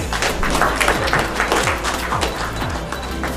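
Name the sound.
audience applause welcoming speaker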